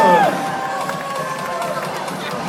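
A cruise ship crowd cheers and whoops at a belly flop competition, a loud, dense roar of many voices that is continuous and fairly close.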